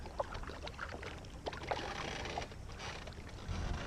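A kayak is paddled across quiet water, soft drips and gentle swishes of the paddle against a faint breezy background, close and low in level with no talking.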